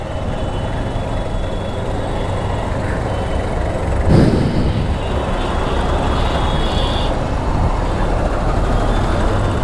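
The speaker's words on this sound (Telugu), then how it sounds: "ఏంది ఇవాళ మొత్తం ట్రాఫిక్ జామ్ అయినా ఇవాళ." Heavy road traffic crawling in a jam on a main road flyover, a steady broadband rumble of many engines close by, with a brief louder passing surge midway and no talking.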